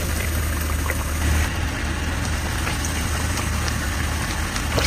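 Chicken cutlets fry in hot oil in a pan over medium heat, a loud, dense, continuous crackling sizzle close up and steady throughout, with no talking.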